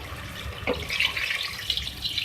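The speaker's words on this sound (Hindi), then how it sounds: "इसमें हम पानी ऐड करेंगे 2 गिलास इसको कुक करने के लिए" Water from two glasses is poured into a cooking pot of salted chicken korma, a short splashing, gurgling pour that runs steadily throughout without talk.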